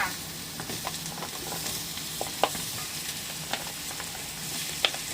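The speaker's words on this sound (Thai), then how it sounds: "เรามาทำผัดผัก ไม่ต้องใส่น้ำมันเยอะนะคะ เอาปักลงไปค่ะ" Vegetables stir-fried in a pan with only a little oil, giving a continuous close sizzle broken by light scraping strokes and occasional sharp clicks of a utensil against the pan; no voices.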